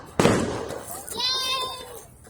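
A single sharp firework blast cracks nearby at a Fourth of July display, then a voice rises and trails off as the bang fades.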